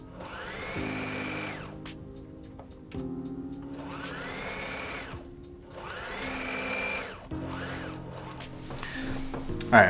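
Sewing machine stitching around the edge of a fabric circle for a wizard hat, a close whirring motor in four long runs that speed up then stop, with short pauses between.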